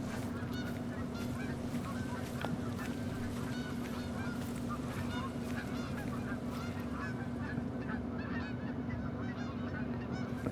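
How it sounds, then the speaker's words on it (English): A flock of geese honks continuously in a Yukon Valley hunting game, a dense overlapping chorus of calls at moderate distance with no talk. "This is going to be the same flock of geese I saw yesterday"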